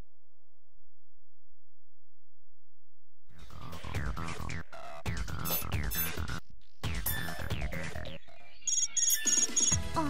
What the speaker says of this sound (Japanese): あら、電話なんて珍しいわね。